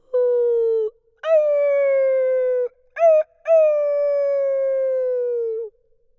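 Wolves howling at night, several long sustained howls with short breaks and a brief rising yip between, close and clear with no talk.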